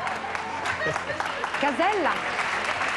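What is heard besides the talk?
studio audience applause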